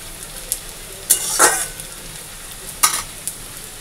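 Dal being tempered with frying spices in a pan gives two short, bright sizzle bursts, with quiet kitchen clatter in between.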